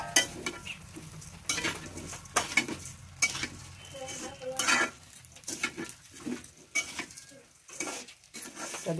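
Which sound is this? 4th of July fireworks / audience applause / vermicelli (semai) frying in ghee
vermicelli (semai) frying in ghee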